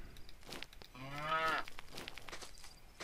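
A cow in the farming game HintermHorizont lets out a single drawn-out moo in the middle, surrounded by faint rustling and soft footstep-like knocks at low volume.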